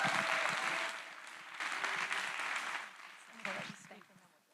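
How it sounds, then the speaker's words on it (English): An audience applauds at a county Title IX panel discussion, a broad wash of clapping that swells, eases and picks up again before fading out. "give her a big round of applause"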